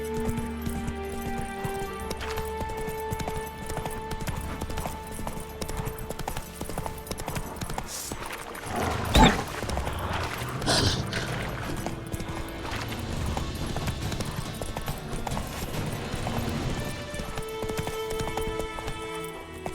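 Hooves of Roach, the horse in The Witcher 3, clip-clop in a steady galloping rhythm alongside faint tack jingles and game music, with a louder thump partway through.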